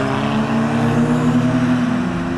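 Modified cars pull away from a car meet, a loud, close engine drone with a steady low hum and rising tone as vehicles move off, with no voices over it.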